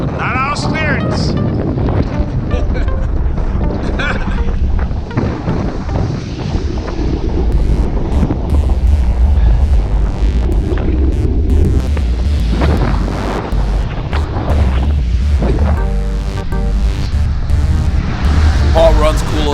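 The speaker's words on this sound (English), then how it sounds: "We're going into the wind, up a climb, and it's windy and rainy." Heavy wind buffets the microphone throughout a rainy group bicycle ride climbing into a headwind, a loud continuous roar with gusty low rumbles and no clear voices.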